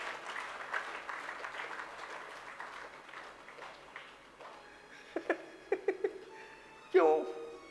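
An audience claps in a dense, steady patter that gradually thins and fades, giving way to a voice and a few scattered sounds near the end.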